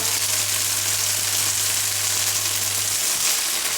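Bacon sizzles steadily in a pan for carbonara, a close, even hiss of frying fat running without a break under a low constant hum.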